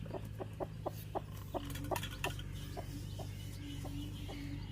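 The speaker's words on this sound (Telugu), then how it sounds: "అది కుక్కు కుక్కు అంటుంది." A mother hen with three chicks clucks in short, evenly spaced calls close by, about a dozen soft repeated clucks over a steady low background hum, with no one talking.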